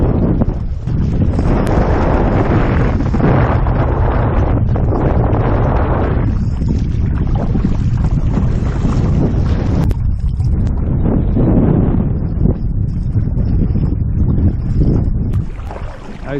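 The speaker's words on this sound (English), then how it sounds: "Paddling through a hurricane." Strong wind buffeting the microphone while paddling a boat on Hurricane Creek, loud gusty rumbles with splashes and knocks of paddle strokes throughout, no talking.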